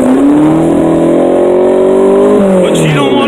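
Honda Civic engine revved hard in the snow, a loud sustained climbing drone that holds high, then drops briefly and rises again, close and continuous.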